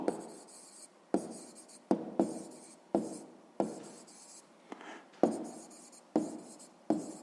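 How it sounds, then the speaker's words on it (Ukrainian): Pen writing a math answer by hand on paper in a sixth-grade exercise, heard as close, quiet scratchy strokes in about ten short bursts, each with a sharp start, and no voice. "Записуємо невідоме число."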